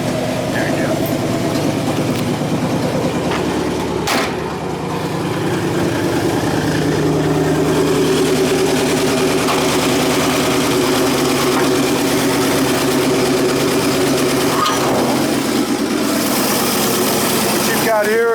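The original Pontiac V8 in a 1956 GMC half-ton NAPCO truck idling steadily, a continuous close rumble that holds throughout while someone talks over it.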